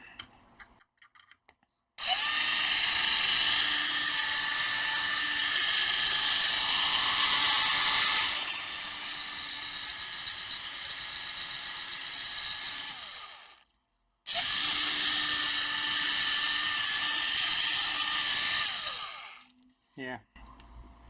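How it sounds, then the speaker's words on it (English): A power drill grinds into a stripped screw on a laptop board, running in two long sustained bursts with a short pause between, loud and close with a high whining tone. "when you're drilling, try to rotate the drill a little bit"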